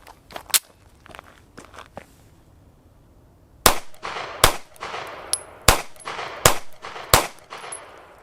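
A Taurus GX4 TORO micro 9mm pistol fires 115 grain jacketed hollow point brass rounds at 5 yards, giving sharp, loud, close shots spaced roughly evenly, with some quieter clicks and handling noise before them.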